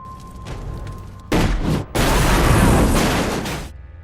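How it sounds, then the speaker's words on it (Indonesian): A huge fireball explosion from a shot gasoline line tears through a woodland cabin in the film Wrong Turn, with loud broadband blasts that swell and roar for several seconds before fading. "Chris pun menembak aliran bensin tersebut, yang memicu ledakan dahsyat sampai menghancurkan seluruh kabin"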